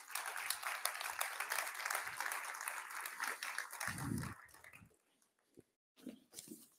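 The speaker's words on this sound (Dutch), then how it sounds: "Zullen we voor hem klappen?" A symposium audience applauds for several seconds, dense clapping that fades out, followed by a few scattered sounds in near silence.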